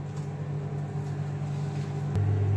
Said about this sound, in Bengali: বাটিটা 3 মিনিটের জন্য মাইক্রো ওভেনে রাখছি।